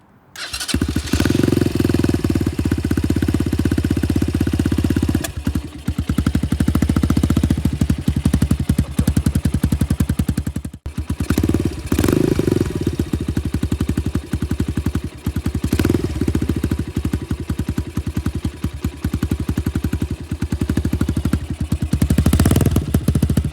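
A 150 CRZ ERZ motorcycle is started on its electric starter after the clutch is pulled in. The engine catches at once and runs loud and close with a rough, throbbing idle, and the revs rise briefly a few times.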